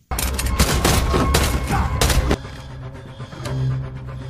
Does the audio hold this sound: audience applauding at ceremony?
no